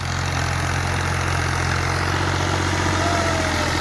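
A tractor engine idles with a steady, deep rumble and constant low throb, close and loud, unchanging for a few seconds.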